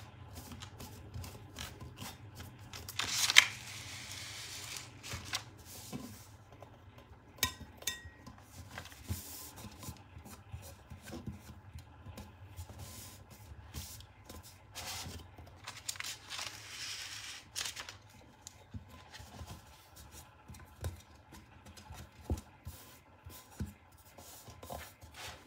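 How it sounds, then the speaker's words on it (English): Quiet rubbing and smoothing of material on a black flame candle tumbler, a series of soft, close scraping and rasping strokes with brief louder scuffs, no voices. "Just rolling and smoothing."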